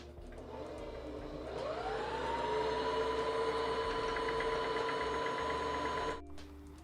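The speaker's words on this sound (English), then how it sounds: "I pretty much am gonna stitch this here." A sewing machine stitching fabric for a project bag: the motor whirs up, runs at an even rapid buzz for several seconds, then stops abruptly, close and clear with no talking.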